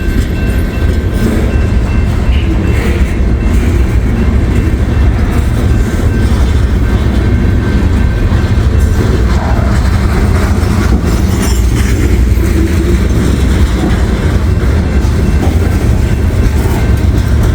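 Coal train with double DPU locomotives rolling past, a loud continuous rumble of wagons with wheel clatter and faint squeal throughout, close by and without speech.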